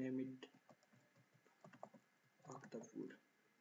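Computer keyboard keys tapped in short bursts while typing a folder name for an ArcGIS hydrological modeling project, fairly close and soft, with a voice speaking over much of it.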